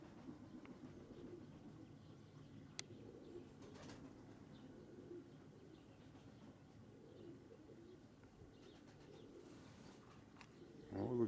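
Budapest high-flying pigeons coo softly outdoors, faint low repeated calls set against quiet distant ambience, with a brief louder rustle near the end.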